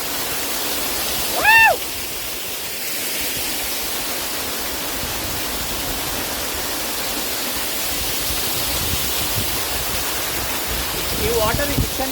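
Kethenahalli waterfall near Bangalore roars steadily and loudly throughout, a dense unbroken rush of falling water with a brief high tone near the start.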